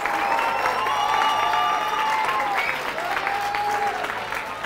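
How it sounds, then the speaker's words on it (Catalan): Studio audience applauding four schools at a Catalan television quiz show, sustained clapping throughout with some crowd noise and a brief voice beneath. "aplaudim, aplaudim aquests quatre centres educatius"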